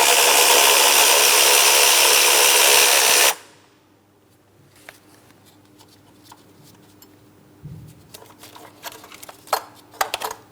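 A power tool whirs loudly for about three seconds, backing out a 10mm bolt from the wiring harness bracket in a 2003-2007 Cadillac CTS 3.6L V6 engine bay, followed by quiet rustling and light metallic handling clicks.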